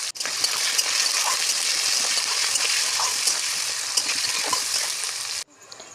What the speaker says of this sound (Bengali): এবার একটু লাল হয়ে এলে এতে কুচনো পেঁয়াজগুলি দিয়ে লাল করে ভেজে